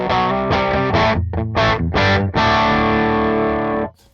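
Heavily distorted electric guitar run through Gabor's Dirty D20 amp simulation on an IK Multimedia AXE I/O One interface, loud chugging chords in short bursts followed by a long sustained ringing chord that cuts off near the end.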